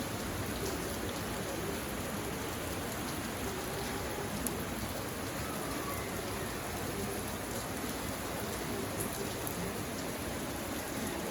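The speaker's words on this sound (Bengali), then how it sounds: "আজকে বৃষ্টি নামলো ক্যামেরাটা অন করছে বৃষ্টি গেল বা দেখছো" Steady rain falls on outdoor surfaces, a dense, even patter with no pauses, heard alone and moderately faint throughout.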